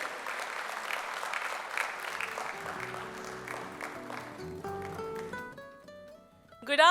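Applause from an event audience fades out over a few seconds as music with sustained tones rises and takes over, ending in a sudden louder swell.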